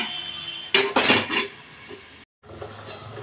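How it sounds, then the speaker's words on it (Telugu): A lid goes onto a cooking pan with a quick cluster of close metallic clatters and knocks, followed by a quieter stretch of low kitchen noise. "ఇలా మూత పెట్టుకుంటారు మగ్గిపోతుంది వేగానే"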